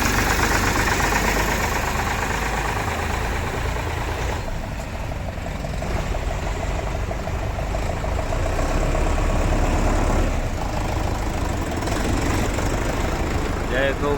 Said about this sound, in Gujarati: અત્યારે ટ્રેક્ટરો તમે જોઈ રહ્યા છો રસકાના ભરાય અને નીકળી રહ્યા છે